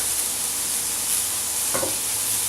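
Trimmed vegetable stems tossed into a hot frying pan of vegan lasagna filling, with a steady loud sizzle and hiss and a brief scrape of stirring partway through.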